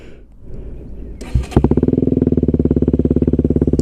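A KTM Duke 125 motorcycle engine fires up with a sharp burst, then settles into a loud, close, steady idle with an even, rapid pulsing throb and no talking over it.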